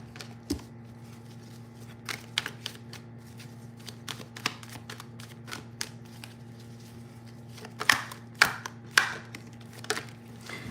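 Tarot cards handled in a pile during a reading, with a run of soft papery riffles and taps through the clip and a few louder snaps near the end over a steady low hum.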